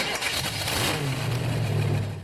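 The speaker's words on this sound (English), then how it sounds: "that engine sounds amazing" A motorcycle engine revs close by, a broad throaty roar that climbs in pitch and then holds steady, with no talk over it.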